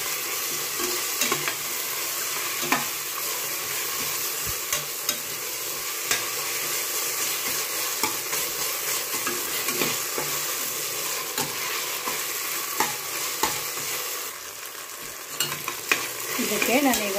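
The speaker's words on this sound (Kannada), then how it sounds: "ಈಗ ಇದಕ್ಕೆ ನಾನು ಶುಂಠಿ ಬೆಳ್ಳುಳ್ಳಿ ಪೇಸ್ಟ್ ಹಾಕ್ಕೊಳ್ತಾ ಇದ್ದೀನಿ ಸ್ವಲ್ಪ" Tomato fries with ginger garlic paste in a pan for vegetable pulao, a loud, dense, continuous sizzle broken by frequent scraping clicks of a spatula stirring close up.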